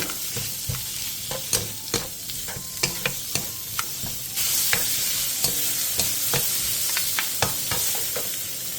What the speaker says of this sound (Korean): 팬에 기름을 두른 뒤 오이와 다진 마늘 반 스푼을 넣고 센 불에서 3분에서 5분간 볶아주세요